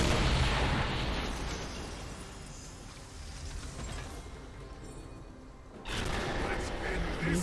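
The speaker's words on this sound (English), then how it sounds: "Your team's turret has been destroyed." A turret being destroyed in League of Legends, heard as a dense, loud burst of booming, crackling game explosions and mechanical rumble that fades slightly, then swells again near the end.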